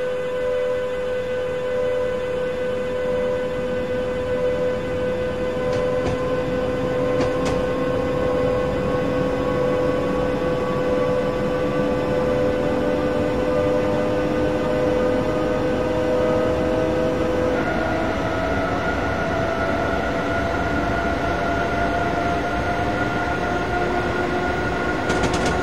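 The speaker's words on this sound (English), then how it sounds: "Very good acceleration on this train." A train accelerating in the Train Simulator 2015 PC game, on the Three Country Corner route, gives a steady, loud mechanical drone with sustained tonal whines that rise in pitch over about 26 seconds, with no talking.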